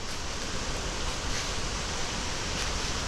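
A waterfall in a steep, pathless forest makes a dense, continuous rushing roar, loud and unbroken throughout, with no voices.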